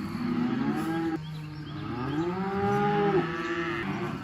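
Cattle on a ranch in the early morning, penned for a calf sale day, mooing loudly and repeatedly with long drawn-out bellows that overlap close by.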